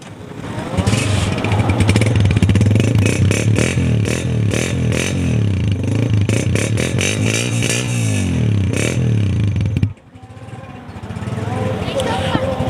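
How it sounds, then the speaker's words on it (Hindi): A used Honda 125 motorcycle engine runs loud and close, revving up and down repeatedly before dropping back, while someone talks over it. "कड़क साउंड बाइक का।"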